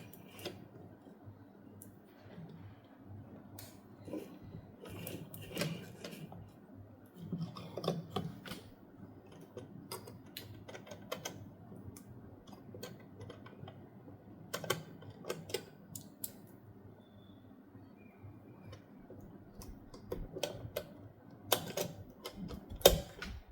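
Sewing machine hand wheel turned by hand to draw up the bobbin thread, giving soft, irregular mechanical clicks and ticks scattered over about twenty seconds, fairly quiet and close with no talking.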